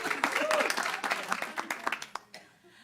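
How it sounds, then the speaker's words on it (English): A small community group applauds itself after a rhythm exercise, with brief close-up clapping that thins into a few scattered final claps and fades out, mixed with some voices. "Clap for ourselves."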